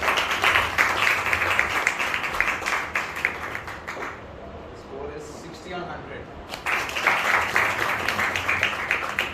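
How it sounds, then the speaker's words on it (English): Audience applause for an award winner at a school interns' farewell ceremony, dense clapping that breaks off midway under a spoken remark, then swells again. "Can I have a round of applause, please?"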